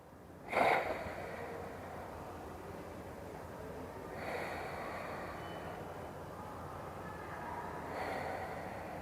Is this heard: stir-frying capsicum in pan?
no